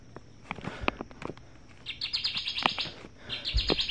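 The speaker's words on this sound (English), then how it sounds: "Kirtland's Warbler." Recorded Kirtland's Warbler call played from a Wild Republic Audubon plush toy bird, a short run of rapid bright chirps repeated twice, close, with some handling clicks and taps around it.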